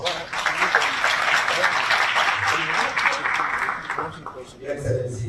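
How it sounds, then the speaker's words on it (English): Audience applause at a government launch of a national justice sector reform strategy, a dense, steady wash of clapping lasting about five seconds with voices mixed in, easing slightly near the end. "A round of applause, please."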